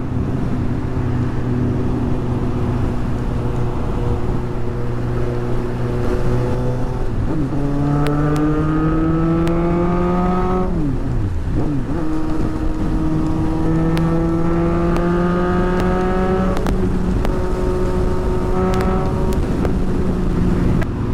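A car engine on an expressway roars steadily at about 120, then revs up through rising gear-like pitches, drops briefly and climbs again, loud and continuous.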